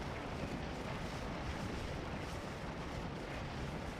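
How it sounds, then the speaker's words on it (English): Cannon artillery fire in a Civil War game mod set at Gaines Mill, heard as a dense, continuous roar of distant booming and rumbling with no clear separate shots. "Once we get these cannons set,"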